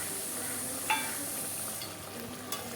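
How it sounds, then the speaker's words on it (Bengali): A spatula stirs pakal (eel) fish curry cooking in hot mustard oil with garam masala: a continuous close sizzle broken by a couple of sharp scraping clinks. "এটাকে আমি খুন্তি দিয়ে ভালো করে মিশিয়ে নিচ্ছি"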